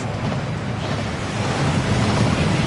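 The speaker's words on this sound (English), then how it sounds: "That waterfall washes away all enchantments." A waterfall in the Hogwarts Legacy video game roars as a dense, constant rush of falling water, loud and unbroken throughout.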